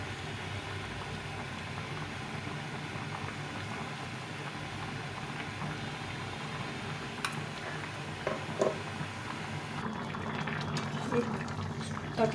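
Bora lentil dumplings simmering in a pot of boiling curry gravy, a steady low bubbling and faint ticking at moderate distance, with a few soft clinks near the end.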